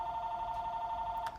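A phone rings with a steady electronic tone that holds under quiet room ambience, faint and alone without talk, the sound cutting off near the end.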